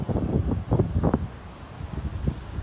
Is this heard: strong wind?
yes